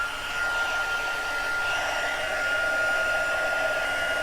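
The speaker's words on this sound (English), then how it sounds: "bring in the heat gun again," A small heat tool blows continuously at close range, giving a steady airy whoosh with a faint whine that holds for the whole stretch.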